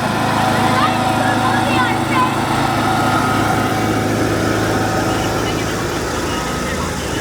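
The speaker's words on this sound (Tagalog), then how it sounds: "Traktora." A tractor drives past in an outdoor Christmas parade, its engine droning steadily and loudly throughout while people talk and call out over it.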